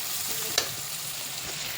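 Chopped tomato frying in a pan, giving a steady, even sizzle with a single small pop partway through.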